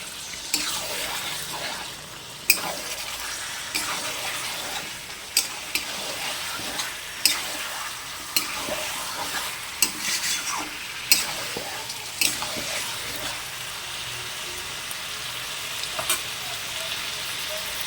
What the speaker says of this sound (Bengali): ভালো করে মাংসটাকে কষে নিতে হবে